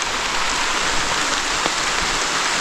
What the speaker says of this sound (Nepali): पुरै पानी पर्दैछ अहिले चाहिँ